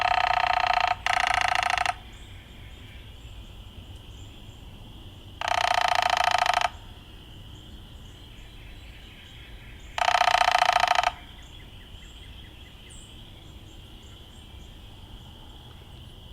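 Downy woodpecker drumming in three separate harsh, rapid rattling bursts, each about a second long and evenly spaced several seconds apart, standing out clearly over a quiet outdoor background with faint insect hum.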